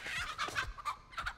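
Short, sharp fowl squawks from a chicken in The Texas Chainsaw Massacre video game come in quick clustered bursts, close and fairly loud, with brief gaps between calls.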